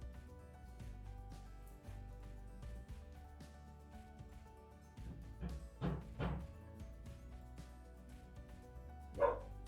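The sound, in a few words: neighbours' dogs barking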